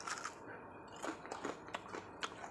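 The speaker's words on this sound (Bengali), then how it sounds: "এই দেখো আমি খাচ্ছি।" Someone bites and chews a crispy fried Bengali fritter (bora), giving a quick series of close, sharp crunches at irregular intervals with no talk.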